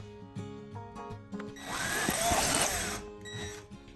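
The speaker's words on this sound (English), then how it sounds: "Mark my spot, and then I'm going to drill a hole." A power drill bores a hole into a wall for mounting a drawer-pull hook, one loud burst of whirring lasting about a second and a half, with a few faint knocks and handling sounds before and after.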